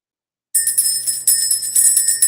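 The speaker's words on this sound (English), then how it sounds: "Let's go ahead and ring the bell." A small bell rings steadily for about two seconds after silence, bright repeated high metallic strikes and shimmer close to the listener, rung to clear the energy in a spiritual session.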